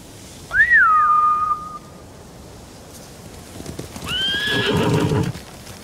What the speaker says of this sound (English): Bastards scared off the horses. They're samurai mounts.